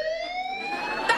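An electronic alarm sounds with a steady, high, slightly sliding tone that fades gradually, followed by a brief thud near the end.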